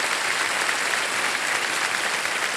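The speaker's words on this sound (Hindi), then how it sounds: "अपनी कला से सबका दिल जीतने वाले इन दो महारथियों का एक बार फिर हम अभिनंदन करते हैं जोरदार तालियों के साथ" A studio audience on the Kaun Banega Crorepati game show claps for two comedians, a steady, full round of applause that holds evenly from start to finish with no speech.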